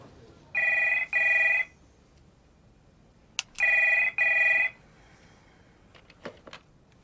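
A telephone rings in a 1995 crime reconstruction: two separate double-burst rings, clear and fairly loud against a quiet room, followed by a few faint clicks and knocks.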